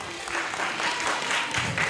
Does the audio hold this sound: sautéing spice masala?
no